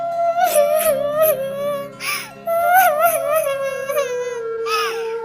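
The cartoon bird Tuntuni cries in a high, wailing voice, with sobbing bursts and whimpers rising and falling continuously and close, performed by a voice actor imitating a crying bird.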